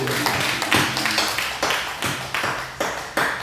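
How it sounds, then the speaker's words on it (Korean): A church congregation claps in unison in a steady rhythm, about two sharp, close claps per second, over a low room murmur. "박수"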